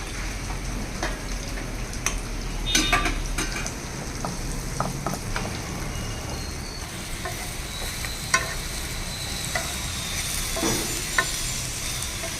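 Chopped carrot frying in a pan for khichdi, a steady close sizzle with occasional scraping stirs and light utensil taps.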